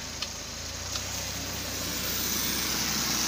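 A Daihatsu DA63T Multicab engine idles quietly and smoothly with a steady low hum that rises slightly near the end as it is revved a little.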